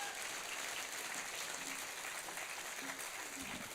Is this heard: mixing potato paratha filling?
no